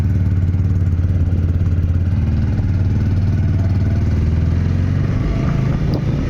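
Steady, close motorcycle engine drone with a low throbbing rumble, running continuously as the bike rides along.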